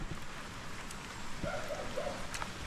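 Soft, steady rain patters in a continuous wash, faint and fairly distant, with a few slightly closer drips.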